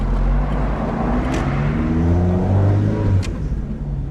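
Mazda MX-5 with individual throttle bodies running after start-up, a deep steady idle with rising revs and a couple of short sharp blips, loud and close.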